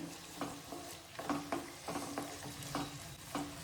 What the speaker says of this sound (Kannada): ಈ ರೀತಿ ಫ್ರೈ ಮಾಡ್ಕೊಳ್ಳಿ